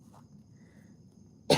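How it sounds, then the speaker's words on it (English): A single sharp cough bursts out at the very end after near silence, close and abrupt. "I don't know why I only cough in this room."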